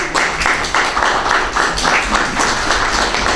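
A seated audience applauds at a Korean church fundraising gathering, a dense run of hand claps that keeps a fairly steady loudness for a few seconds and has no talking over it.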